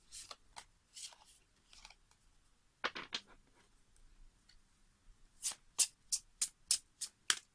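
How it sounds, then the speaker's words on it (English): Tarot cards are handled quietly, with scattered soft riffles and taps, then a quick run of crisp, regular card snaps near the end, all close and faint. "Let's give the deck a little bit of a shuffle, or more of a shuffle rather."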